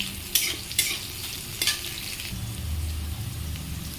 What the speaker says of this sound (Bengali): সয়াবিনটা ভেজে নেব